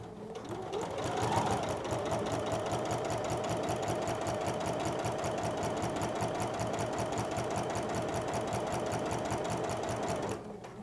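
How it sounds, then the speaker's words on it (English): Sewing machine fitted with a walking foot stitching a pinned half-square-triangle quilt block: a steady fast mechanical chatter that runs evenly for about nine seconds, then stops, with no talking. "I'm ready to sew this half square triangle"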